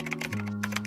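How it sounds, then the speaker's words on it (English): Rapid keystrokes on a computer keyboard as a chat command is entered, a close, steady run of clicky taps over a low background hum, with no talking. "Go and type /save ID."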